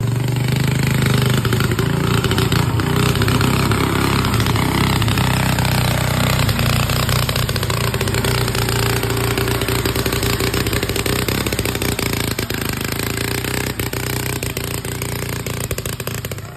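A Chinese motorcycle engine roars loud and close during a muddy ride, a continuous rough, rattling drone that holds steady and unbroken throughout.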